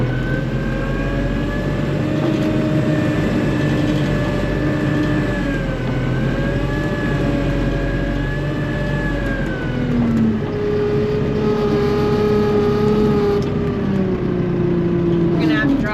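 A tractor climbs a steep hill up to a freestall barn in third low with four-wheel drive engaged, its engine droning loud and continuous with a steady tonal whine that dips and rises slightly under the strain.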